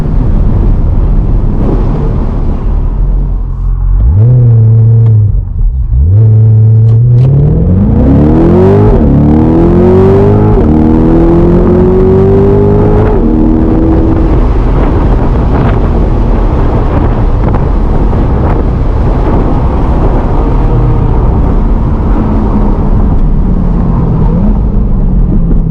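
A Corvette C8 launches hard on a 0-60 run, its engine roaring and climbing through rising gear pulls, loud and close inside the car with heavy wind buffeting and no talking.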